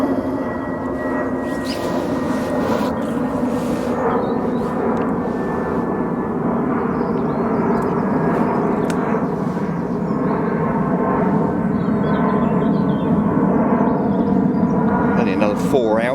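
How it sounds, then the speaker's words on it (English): A propeller plane drones steadily overhead above a flat calm lake, a continuous engine hum held at moderate loudness across the whole stretch, with a voice speaking now and then over it. "Only another 4 hours and the planes will stop."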